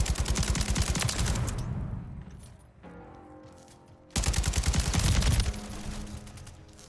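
Kastov 762 rifle fire in Call of Duty MWIII, loud sustained automatic bursts with a brief lull and echoing tail before firing resumes.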